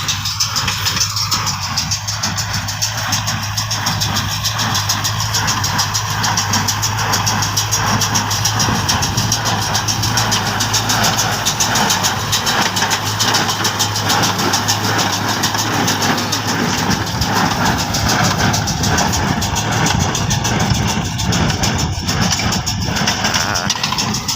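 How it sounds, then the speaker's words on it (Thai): A loud, steady tractor engine on a straw baler drones continuously throughout with a constant mechanical rattle, no pauses or talk. "คลิปนี้พามาดูนะครับรถไถอัดฟางนะครับ"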